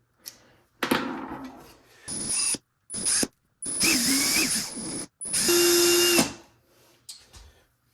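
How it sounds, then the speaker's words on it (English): Power drill boring holes into a handmade rainbow trout swimbait lure, several separate close bursts of whirring with short pauses between them, the longest run near the end. "I just have to create the holes to drill them into"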